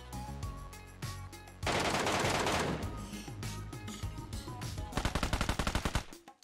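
Rapid bursts of automatic gunfire in the PUBG Mobile battle royale game, loud and close, with a sustained stretch of shots followed by a later string of distinct evenly spaced bangs over game music.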